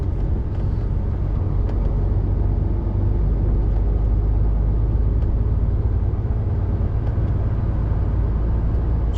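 Steady, loud engine and road rumble from inside a truck cab on the M6 motorway, a constant drone holding level throughout with no talk.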